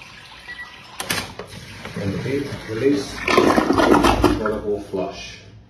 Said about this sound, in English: then the toilet will flush on its own and then release